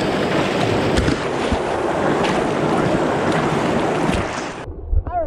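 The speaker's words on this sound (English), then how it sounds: "Water!" Rushing water of Brush Creek fills the scene, a loud, dense, continuous roar with wind buffeting the microphone, cutting off abruptly near the end.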